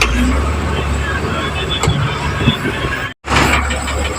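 Road traffic stuck in a rainy jam near the Navapur border, a steady roar of car and bus engines with sharp clicks and a brief dropout, with a person talking over it.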